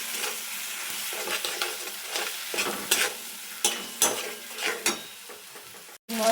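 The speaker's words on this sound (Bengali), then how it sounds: "মশলাটা একটু ভাজা ভাজা করে নেব" Ginger and cumin spice paste sizzles as it fries in a pan for an echor (jackfruit) and potato curry, with repeated close scraping strokes of a spatula stirring it alone, then a brief break near the end.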